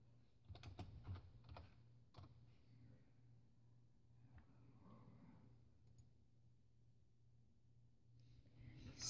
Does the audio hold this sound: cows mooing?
no